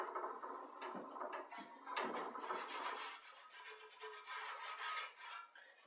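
A cloth rubs carnauba wax onto milk-painted wooden furniture, close-up scratchy rasping strokes in an irregular back-and-forth rhythm, with no talk.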